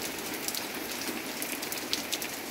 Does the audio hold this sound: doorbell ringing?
no